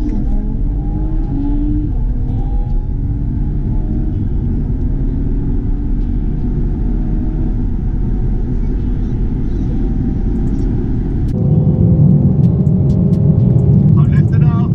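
A Mercedes-AMG C43 pulls away hard from traffic lights. Its engine drones loud and steady from inside the cabin, rising in pitch, and then surges deeper and louder near the end.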